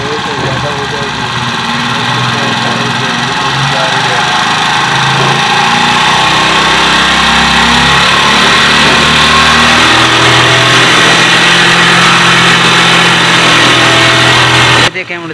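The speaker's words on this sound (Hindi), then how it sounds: "देखें, मोटरसाइकिल बाइक की जो है अब रेस जो है बिल्कुल ही ज़्यादा हो चुकी है।" A Honda CD 70 70cc motorcycle engine runs at raised revs during carburetor air-fuel adjustment, a loud, steady mechanical drone that climbs slightly and cuts off at the end.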